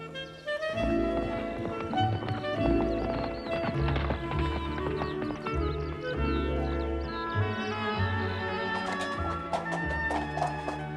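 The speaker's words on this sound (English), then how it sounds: "Jolly good horse." Hooves clip-clopping in a steady rhythm, mixed with a sustained musical backdrop; no speech.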